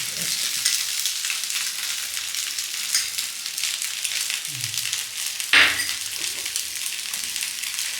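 Pathrode pieces sizzle and fry steadily in a hot pan as they roast on both sides, with a brief clink of a utensil partway through.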